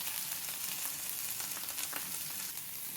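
Chopped onion sizzles steadily in a hot pan for a Sri Lankan fish sambol, a dense crackling hiss with faint stirring and no voices.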